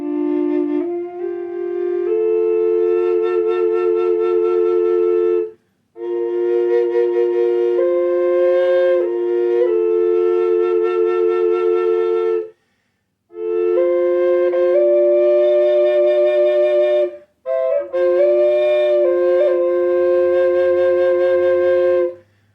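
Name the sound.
Native American low D double drone flute playing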